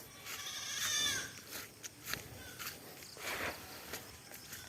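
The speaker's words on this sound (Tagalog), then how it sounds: "May kambing." A goat bleats a few times outdoors after rain, the wavering calls fairly faint and spaced out, with some rustling and footsteps between them.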